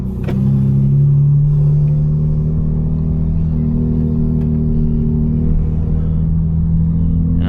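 BMW M4 with a burble exhaust tune set to its minimum burble level, idling in a parking lot with a steady, loud, deep engine drone and slight swells in pitch, no clear crackle pops.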